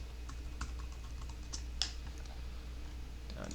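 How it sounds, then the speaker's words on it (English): A computer keyboard is typed on in a short, quiet sequence of light clicking keystrokes, close and soft, with no talking. "if I can type."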